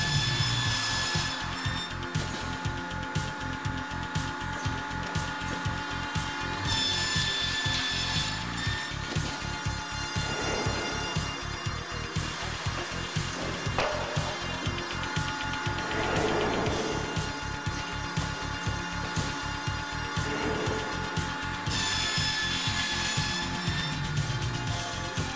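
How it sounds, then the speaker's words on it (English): A Hundegger K2i joinery saw cuts lumber of varying lengths with a steady loud machine drone, repeated cutting passes and mechanical rattling, broad bursts of saw noise rising and falling across the run. "Even lumber of varying lengths can be processed together and cut precisely."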